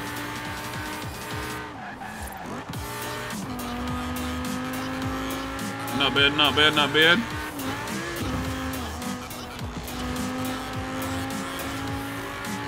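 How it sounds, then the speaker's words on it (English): A car in the racing video game Forza Horizon 4 revs and shifts through its gears, with a short burst of tire squeal partway through, while someone talks over the engine the whole time. "Let's see how this car goes."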